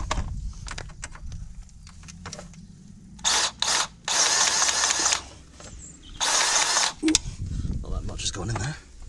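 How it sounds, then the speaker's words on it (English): Grease gun forcing grease into parts on a Polaris, heard as several loud bursts of mechanical clicking and hissing a few seconds apart, close by, over a low background rumble. "So now we're going to give these a little bit of a grease."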